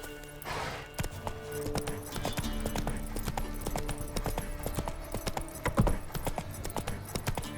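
Roach the horse gallops in The Witcher 3 with a steady, rapid clip-clop of hooves near and clear, layered over game ambience and sound effects, no speech.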